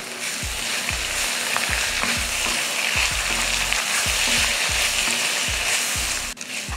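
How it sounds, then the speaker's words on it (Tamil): Mint and coriander leaves sautéing in a pan for chutney: a strong, steady sizzle with repeated rhythmic scraping strokes of a spoon against the pan, close and loud, with no voices. "இப்போ இதை வதக்கிடுவோம்"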